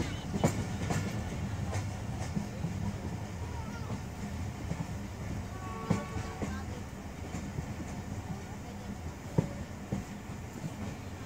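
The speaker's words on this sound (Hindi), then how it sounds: "जंक्शन के करीब पहुंच के रेल स्लो भी है, शायद यहाँ पे रुकेगी।" A Jaffar Express passenger train on the Lahore to Gujrat run rolls slowly near Shadrabagh junction, giving a steady close rumble with scattered wheel clicks and knocks throughout.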